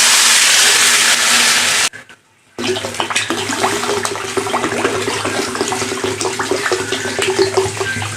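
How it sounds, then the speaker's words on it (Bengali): Water poured into a pot of fried rice and lentils for khichuri: a loud rushing pour that stops abruptly, followed after a short gap by steady bubbling and sizzling in the pot. "এবার জল দিয়ে দিলাম।"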